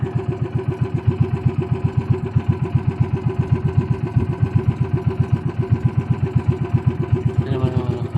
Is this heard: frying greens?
no